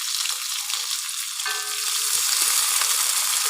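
Curry leaves crackling in hot oil with mustard seeds and shallots for an okra sabji, a steady close sizzle with a brief sharper spit partway through and no voices.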